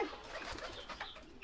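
Farm pigeons coo softly in the background, a few low murmuring calls over a steady outdoor hiss.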